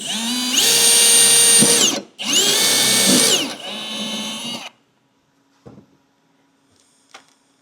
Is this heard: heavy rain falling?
no